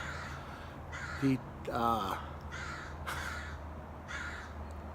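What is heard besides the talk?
bird cawing loudly nearby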